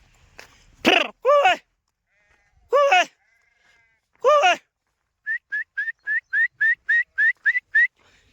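Several sheep bleat loudly in the open near a solar-powered water point during drought, three long wavering calls followed by a quick run of short, evenly spaced bleats with no talk.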